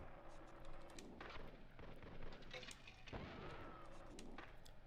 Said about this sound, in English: in the background noise of this level, you could just hear gunshots and a woman scream